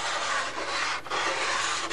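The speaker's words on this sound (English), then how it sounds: "Again, I'm just rough sanding." A sanding block rubs rough and steady across a foam model Spitfire wing at close range, a continuous raspy scraping with a brief pause midway as the stroke changes.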